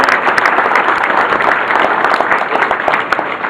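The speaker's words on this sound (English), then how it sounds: "can we have a round of applause for the families of these two fine people?" Wedding guests applauding the families of the couple, a dense burst of clapping from a room full of people, loud and sustained with no speech over it.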